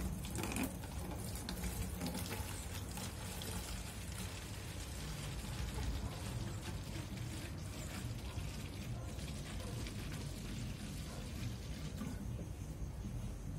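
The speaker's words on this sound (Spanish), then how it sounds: "Esto es agua destilada. Vamos a trasvasarlo adentro de este bidón." Distilled water pours steadily into a jug, making a continuous low splashing rush that stays fairly quiet and lasts the whole stretch without any talking.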